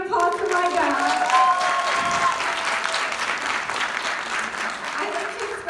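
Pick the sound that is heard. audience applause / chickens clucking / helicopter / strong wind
audience applause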